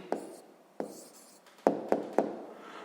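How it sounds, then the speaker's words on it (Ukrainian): A pen writes an answer by hand on paper for a sixth-grade maths exercise: quiet close scratching strokes broken by a few sharp taps as the pen meets the page. "Ну що ж, зараз записуємо відповідь."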